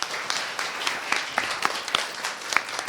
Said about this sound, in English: big round of applause for Steve.